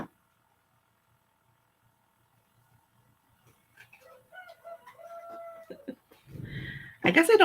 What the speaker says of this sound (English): that's one of my roosters